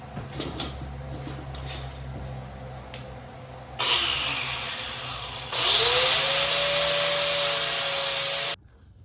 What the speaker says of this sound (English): I think I'm going to cut this down, grind this down, and then probably weld on a new little like tab.